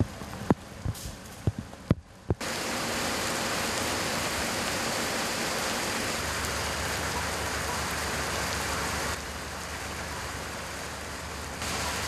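Heavy rain from a passing summer shower at a pine tree transplanting site, a loud, continuous wash of downpour after a few brief knocks at the start, steady throughout with only a slight drop later.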